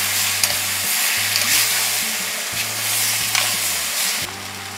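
Tomatoes and whole cashews sautéing in a pan for shahi paneer, giving a steady close sizzle with soft stirring scrapes over a low background tune.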